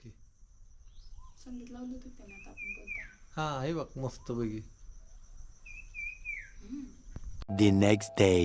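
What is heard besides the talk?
birds chirping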